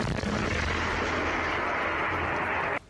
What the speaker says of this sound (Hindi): रूसी सेना ने एक इलाके में एक के बाद एक कई रॉकेट दागे जो तेज आवाज करते हुए टारगेट की तरफ निकले